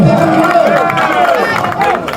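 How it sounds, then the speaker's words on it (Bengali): A comedy show audience at Naz Garden roars with loud, continuous cheering and shouting, many voices overlapping close and energetic throughout; any clapping is buried under the crowd noise. "তালি হবে একটা জোরে।"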